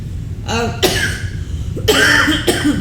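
A run of harsh, close coughs from a person with a lingering cough, four bursts spread over a few seconds with short pauses between them.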